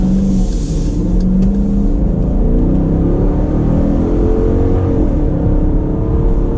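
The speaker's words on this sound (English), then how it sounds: "I'm gonna do one more acceleration run" A 2019 Dodge Durango R/T AWD accelerating at half throttle, heard from inside: a steady, loud engine drone with rising pitch sweeps through the gears, continuous rumble throughout.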